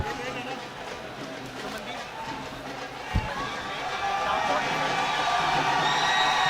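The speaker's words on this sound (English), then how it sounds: "the crowd is all gung-ho about Mandeep once again." Arena crowd at an Indian MMA bantamweight fight roaring and cheering after the third round, a dense, steady wall of voices that swells louder toward the end, with one brief sharp thump midway.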